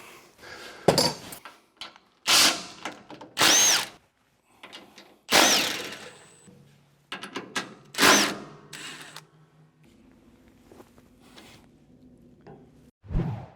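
A power tool backs bolts out of the auger on a Muskox snowblower in several loud, close bursts of whirring and rattling, separated by quiet gaps and clanking metal handling.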